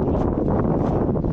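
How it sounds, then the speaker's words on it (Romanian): Strong wind on a ski slope buffets the microphone in a steady, loud, low roar, gusting continuously with no voices. "vânt mai puternic decât în partea aia"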